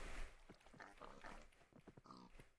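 Pigs oink and grunt in the Minecraft modpack Agrarian Skies, several overlapping calls in a dense, continuous stretch of game sound.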